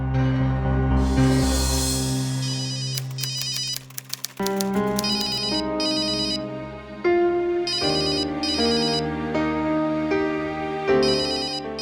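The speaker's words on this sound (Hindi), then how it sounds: "फोन बज रहा है तुम्हारा।" A phone ringtone plays loudly, a bright electronic melody repeating in bursts, with no voices over it.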